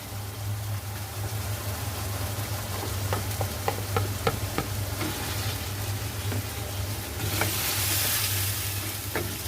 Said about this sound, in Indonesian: Kita masukin bawang bombaynya.